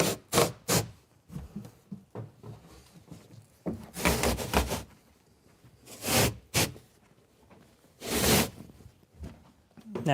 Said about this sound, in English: I'm ripping off this carpet because I have screws that are under the carpet that are holding this wood down